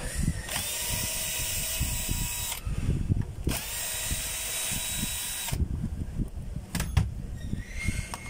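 A power drill drives a screw, giving short whirring bursts with pauses between, close and fairly loud over background clatter.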